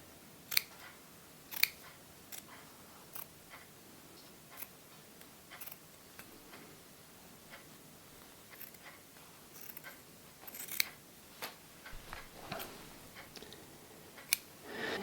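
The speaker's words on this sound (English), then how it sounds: "we're going to cut back the one on the inside. We're going to cut that back down to about half." Scissors snip back the inner fabric seam allowance while hand sewing an 18th-century shift, a series of sharp, quiet cuts spaced irregularly over a faint room hush, with no talking.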